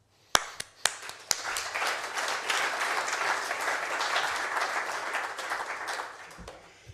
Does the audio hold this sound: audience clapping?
yes